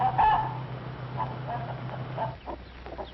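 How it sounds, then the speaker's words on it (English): Two-month-old, nearly grown chickens cluck in short, soft bursts nearby, with a steady low hum in the background. "2-month-old chickens and almost grown up."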